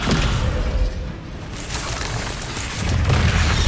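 A Descendo spell slams into its target in Hogwarts Legacy, giving a dense rumbling impact with low booms that rise and fall over continuous loud game noise.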